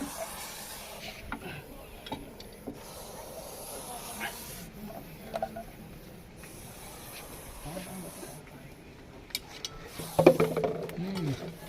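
An angered Russell's viper, a venomous snake, hisses as a steady breathy rush throughout, with a louder burst near the end, while a person talks faintly in the background.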